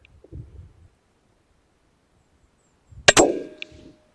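A Howa 1500 rifle in .204 Ruger fires a single sharp shot, followed by a bright metallic clang of the bullet striking a steel target, ringing briefly before fading. A faint rustle comes before the shot, and no one speaks.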